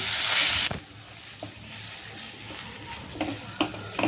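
Masala of mashed potato, salt, chilli and turmeric sautés in a pan for bread pakoras, opening with a brief loud sizzle and then settling into a quieter hiss with scattered spoon scrapes and taps.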